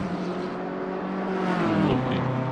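A green and grey BMW race car in Assetto Corsa Competizione at Kyalami, its engine droning steadily and rising in pitch toward the end as it comes through the final corner, with a continuous whirring tone.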